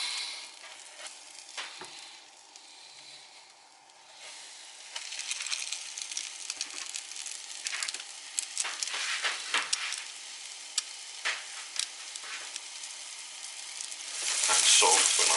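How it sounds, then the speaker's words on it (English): Floured fish frying in butter in a pan, a continuous close sizzle that swells louder and brighter toward the end, with occasional stirring knocks. "when the butter is ready, so the fish is ready to go to the pan"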